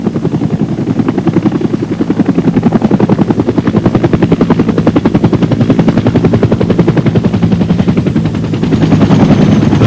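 Army helicopter in a Vietnam extraction, its rotor beating in a rapid, relentless chop with heavy engine roar, very loud and close throughout without pause.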